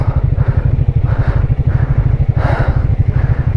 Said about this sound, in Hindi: बाइक हमने कोल्ड स्टार्ट कर लिया।